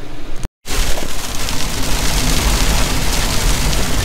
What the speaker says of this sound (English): A little bit of a mountain hailstorm here.